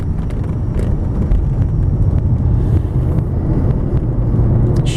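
A 1994 Mercedes-Benz 500SL R129 roadster with its 5-liter V8 pulls smoothly on a test drive, a steady low engine rumble with some wind and road noise running throughout.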